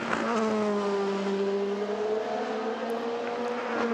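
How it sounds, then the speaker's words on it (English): Race cars at Spa-Francorchamps qualifying on a wet track with standing water sweep past on their first flying lap, their engines a loud, continuous high-pitched drone with rising and falling pitch. "the lines we're seeing of the cars as they clear the line in front of us for their first flying lap"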